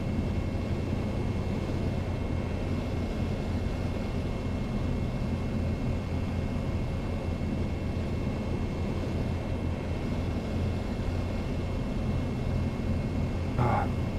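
A2A Comanche light aircraft in Microsoft Flight Simulator coming down for a deliberately hard runway landing: a steady, dense engine and airframe drone holding for the whole stretch, loud and constant, without any voices.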